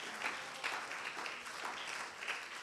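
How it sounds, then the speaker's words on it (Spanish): A church congregation claps in praise during a Spanish-language worship service, a steady mid-distance patter of many hands with small swells, no one speaking over it. "Un aplauso al Señor."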